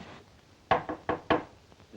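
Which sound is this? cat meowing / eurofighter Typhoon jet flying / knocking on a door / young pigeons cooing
knocking on a door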